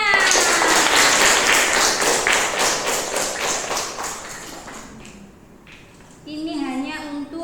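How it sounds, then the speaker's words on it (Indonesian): Schoolchildren in a classroom clap their hands together in a loud, rhythmic burst that gradually fades, followed by children's voices and chatter. "Tepuk tangan."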